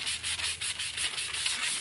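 Steady back-and-forth scratching of 220 grit sandpaper on a wooden curtain rod pole, close and continuous with rhythmic rubbing strokes and no speech.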